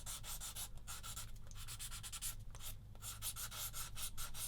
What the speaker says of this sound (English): but sometimes it's just nice just to sand